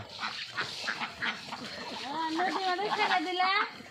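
Domestic ducks on a duck farm quack repeatedly nearby, a chorus of nasal calls that grows busier toward the end, with a voice briefly audible early on.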